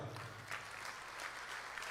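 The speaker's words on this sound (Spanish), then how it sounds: "Démosle un aplauso al Señor." A church congregation claps together in a steady, dense patter of applause that fills the room, fairly quiet and heard from a distance.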